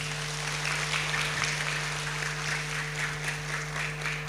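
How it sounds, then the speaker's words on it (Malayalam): A crowd at a priest's jubilee gives steady, sustained applause, a dense wash of clapping at moderate loudness over an electrical hum. "എല്ലാവരോട് ചേർന്ന് ബഹുമാനപ്പെട്ട അച്ഛനെ നല്ല ഒരു കയ്യടി പാസ്സാക്കി"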